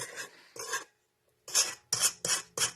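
A spatula scrapes down the sides of a bowl of meringue mixture in short, raspy strokes. There are two strokes, then a brief pause, then four quicker scrapes. The sound is close and crisp, with no talking.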